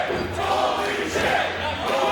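A wrestling crowd at a live independent show chants steadily for a wrestler after he gets back up from a drop kick, a dense, sustained roar of voices filling the whole stretch.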